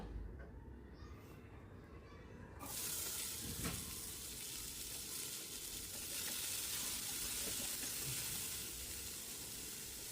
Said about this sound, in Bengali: তারপর দিয়েছিলাম শুকনো লঙ্কা ছিঁড়ে এবং গোটা জিরে ফোড়ন দিয়েছিলাম। তারপর এটা একটু নাড়াচাড়া করে নিলাম।